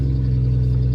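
A truck engine runs steadily with the throttle held open, a loud, close, continuous low rumble with strong even harmonics and no break across the short stretch.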